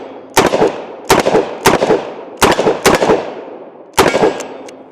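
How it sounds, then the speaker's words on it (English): .357 revolver fitted with a Midwest Industries brace firing six loud, close shots in an uneven rhythm, each a sharp crack with a brief ringing decay, with longer pauses between some shots and no talking. "let's go ahead and take some shots with old 357 here"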